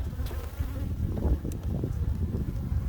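Honey bees buzz steadily around an opened hive during an early-season inspection, a dense, close insect drone with no talk over it.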